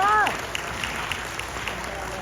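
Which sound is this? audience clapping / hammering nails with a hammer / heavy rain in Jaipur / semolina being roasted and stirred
audience clapping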